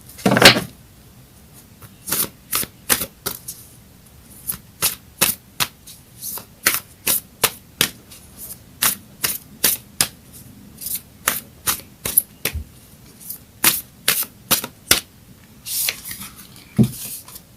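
Cards from a Moonology oracle deck being drawn and shuffled, a long run of crisp, sharp snaps and flicks at an irregular, quick rhythm, close and fairly loud against a quiet room with no talking.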